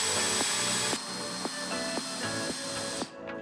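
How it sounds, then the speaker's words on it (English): A whining power drill runs in short bursts, its pitch dipping and rising as it drives screws through a door hinge into wall studs, close and loud, ending with a brief stop. "drill pilot holes, and drive the screws into the studs"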